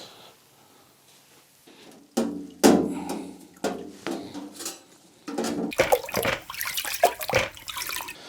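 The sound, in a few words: water rinsing cleaned parts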